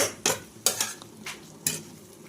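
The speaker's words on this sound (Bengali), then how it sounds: "নেড়ে নেব।" Cauliflower stalk curry being stirred in a pan, four sharp scraping strokes of a spoon against the metal over a low background sizzle, close and fairly loud.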